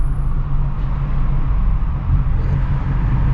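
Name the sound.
red car engine passing on road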